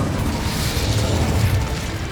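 A fire spell cast in the game Hogwarts Legacy on PS5 rumbles in a steady, dense whoosh of flame and low booming energy, loud and continuous throughout with no voices.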